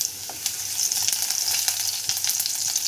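Garlic frying in a hot mustard-seed tempering while cooking stuffed green chillies with peanut masala gives a steady, dense sizzle with scattered sharp crackles and pops, close and loud, with no talk over it.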